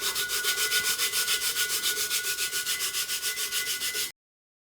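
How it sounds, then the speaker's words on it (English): Glitter rubbed by hand onto a tacky glitter tumbler, a steady rhythmic brushing scrape of quick even strokes repeating about six per second, close and fairly loud, with no talking. "don't be afraid to rub your glitter"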